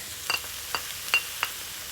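Onions and peppers sautéing in a pan for a mushroom chicken sauté: a soft, steady sizzle broken by a few quick clicks and scrapes of stirring.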